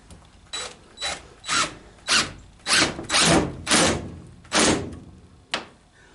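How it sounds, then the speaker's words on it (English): A power drill driving screws into a wall while fastening down a tarp for a blacksmith shop door: about nine loud, close bursts of whirring, each a second or less, separated by short pauses, with no talk. "now I'm just putting screws in the wall"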